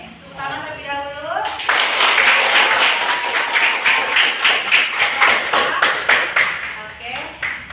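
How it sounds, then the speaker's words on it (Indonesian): A classroom of students claps together after group presentations, a burst of loud, rhythmic clapping that starts abruptly after a teacher speaks and continues with a steady pulse, a voice briefly audible near the end. "Tepuk tangan terlebih dahulu."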